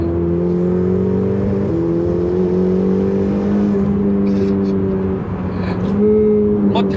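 A Ferrari mid-engine V8 revs steadily with a rising, whining drone and a slight drop and recovery in pitch, loud and continuous throughout, heard from inside the cabin.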